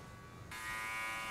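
An electric razor trimming a neckline at a barbershop switches on after a quiet start and settles into a steady, close, high-pitched buzz, with no talk.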